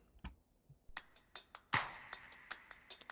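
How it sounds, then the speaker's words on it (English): A programmed electronic drum pattern plays quietly, with crisp hi-hat ticks and a heavier hit in a steady, sparse groove, nothing else over it. "I've just added some hats and stuff like that"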